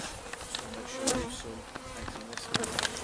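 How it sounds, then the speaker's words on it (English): Honeybees buzz close around a beekeeper during a hive split, a constant faint drone with individual bees zipping past the microphone in brief louder passes. "they're buzzing around me"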